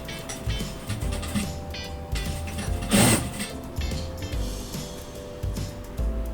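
A domestic sewing machine backstitches a double-layered pleated cloth face mask, giving a close, steady mechanical whir with a brief louder burst partway through, alone without talk.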